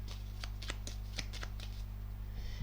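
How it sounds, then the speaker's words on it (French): Tarot cards being handled and shuffled, with a series of quick, crisp, close-up card flicks and slides over a low background hum. "je vais prendre une petite carte dernière petite carte ici"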